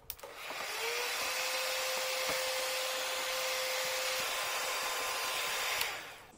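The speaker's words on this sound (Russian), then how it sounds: "Сейчас мы ее разогреем при помощи строительного фена." A heat gun blows steadily for several seconds while warming two tablespoons of drinking water in a small jar, a loud continuous whooshing hiss with a faint whine, starting with a click and ending abruptly.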